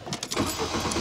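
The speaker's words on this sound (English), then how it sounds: "start the car back up" A Volkswagen 2.0 car engine cranks with a few quick, close strokes of the starter and then catches, settling into a steady running sound right away during a coolant clog repair.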